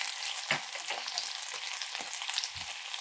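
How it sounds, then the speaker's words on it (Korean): Cabbage and dried shrimp stir-frying in a pan, a steady bright sizzle with several soft scraping stirs and a low knock near the end, close up with no talking. "양배추가 반 정도 익었을 때 마른 새우를 넣어주시고"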